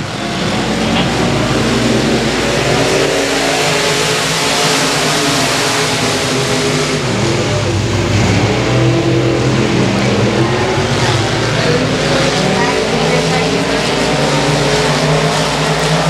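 Stock cars roaring off the line at the start of a race at Boothill Speedway, a dense, loud, continuous engine roar from several cars with no talk over it.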